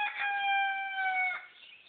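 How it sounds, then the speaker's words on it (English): A rooster crows once in a long, loud, clear call that holds steady and fades at the end, heard alone outdoors. "Stupid rooster."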